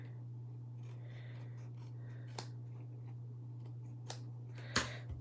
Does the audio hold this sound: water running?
no